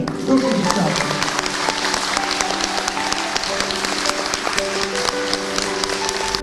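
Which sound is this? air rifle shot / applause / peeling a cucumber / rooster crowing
applause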